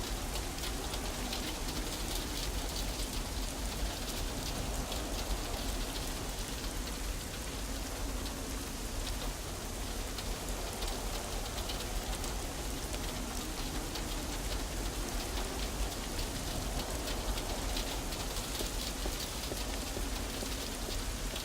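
Rain pours in the NiBiRu: Age of Secrets adventure game, a dense, even wash of drops hitting surfaces that stays steady and unbroken throughout, with no voices.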